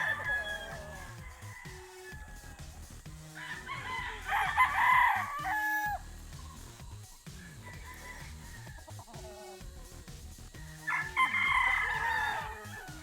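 Gamefowl roosters at a game farm crow in repeated bursts, loud and close, with clucking and soft farmyard sounds between the calls.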